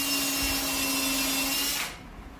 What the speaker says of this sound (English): I'll screw these legs on to get it up off the ground.